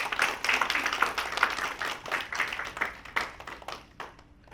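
A congregation at a church service claps, making a dense, fairly close burst of applause that swells briefly and then thins out and fades over a few seconds.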